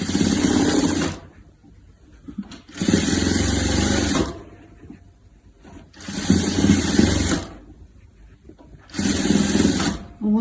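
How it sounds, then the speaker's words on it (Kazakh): A sewing machine stitches pillow pieces together in four loud runs of about two seconds each, with quieter gaps between them where a voice can be heard talking. "Сол шетін жалғап тігіп шығайық."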